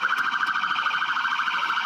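A loud, continuous electronic police car siren wails steadily at close range, with no speech over it.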